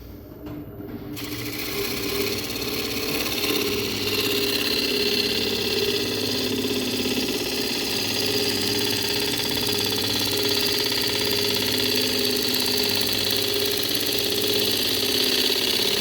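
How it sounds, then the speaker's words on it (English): Steady, continuous whirring drone of a wood lathe spinning an old apple wood bowl as a gouge cuts it, holding an even level throughout after a brief quieter start, with no talk. "I might just give that another pass with a gouge, see if I can settle that down a little bit"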